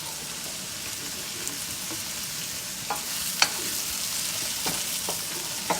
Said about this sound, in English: you take your broccoli, you cook it up in there real good